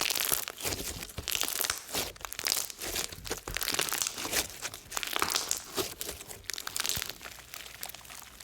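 Thick, crunchy Halloween slime from KY Slimes being squeezed and worked by hand, giving close, dense crackling and crinkling pops that continue without a break and without any speech.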